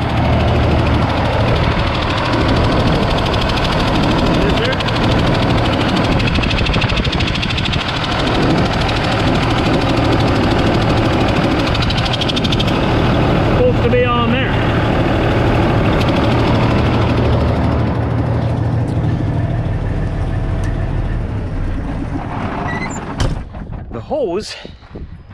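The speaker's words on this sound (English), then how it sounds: "It's a little bit loud because the engine's running" A truck engine runs loud and steady with the hood open, a close, continuous low rumble and vibration that fills the whole stretch, with someone talking over it and some clatter near the end.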